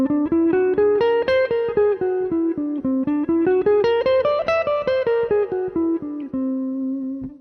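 Whole tone scale from C played on guitar, a run of evenly spaced single notes ascending then descending, close, bright and ringing, played alone.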